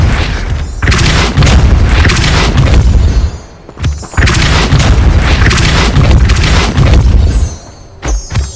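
A Depulso spell in Hogwarts Legacy lets loose a pair of heavy, loud booming blasts, each rumbling for about three seconds with a short lull between them, followed by a smaller thud, with no talk.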